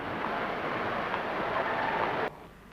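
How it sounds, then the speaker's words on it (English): Diesel train running on rails, a steady broad rumble and roar that holds at constant loudness, then drops sharply near the end. "This is a diesel train."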